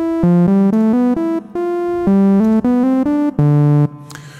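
A bright ShapeSynth software synthesizer in REAPER plays a stepping melody of sustained, buzzy notes, each cut cleanly before the next, loud and up close with no talking.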